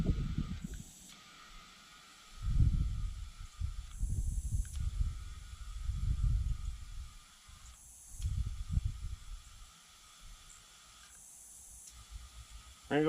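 Compressed air hisses in repeated bursts while a tractor tire is inflated toward 25 psi, several separate blasts a couple of seconds apart, fairly close, with quieter gaps between them.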